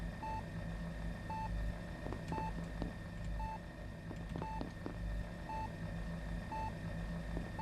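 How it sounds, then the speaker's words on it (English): A heart rate monitor in the sci-fi game Among Us gives short electronic beeps at a regular pace, about one per second, over a low mechanical room hum with scattered faint clicks. "heart rate monitor,"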